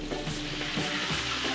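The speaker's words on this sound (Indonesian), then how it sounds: "ini langsung saya goreng" A crispy battered corn dog sizzles and crackles in hot oil in a wok, making a steady close frying hiss with no speech.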